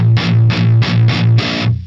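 Distorted electric guitar pushed through an extreme low-cut filter, five loud, thin chord strums in a steady rhythm with the bass stripped away, leaving mostly a buzzy attack, ending on a short decay.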